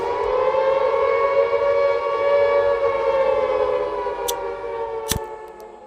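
A wailing Silent Hill civil defense siren from a horror film drones steadily, its pitch rising and falling slightly, loud and eerie, with a couple of brief clicks near the end.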